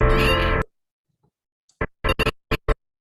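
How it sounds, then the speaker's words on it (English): A cat lets out one clear, loud meow, then after a short silence a string of short, choppy stuttering bursts follows from a glitch video effect. "like right when he meows, it just does this like glitch effect."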